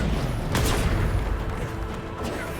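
Descender spell cast in Hogwarts Legacy combat: a dense burst of magical impact and whooshing noise, loud and continuous, with a sharp crack near the start and another near the end.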